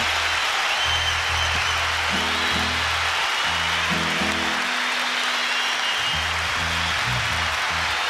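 A concert audience applauds at a live performance: dense, steady broadband clapping that continues throughout, with sustained low instrumental tones playing underneath.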